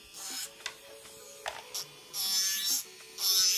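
An electric nail drill with a carbide bit files down extra-long nails, giving short close buzzing and whirring bursts that start and stop in an uneven rhythm.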